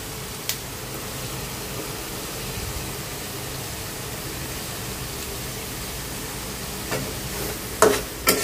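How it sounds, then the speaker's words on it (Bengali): Spice paste frying in a pan gives a steady, even sizzle throughout, with a few soft scraping and clinking stirs near the end. "মশলাটা একটু কষানো হোক"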